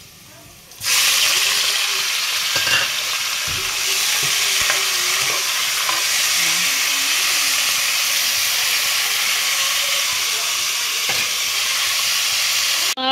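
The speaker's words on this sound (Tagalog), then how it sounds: "So, yung mga pait, gisa na natin." Bitter goat innards (pait) sauté in a hot pan, a loud, steady sizzle and hiss that starts abruptly and continues throughout, with occasional stirring scrapes and clinks.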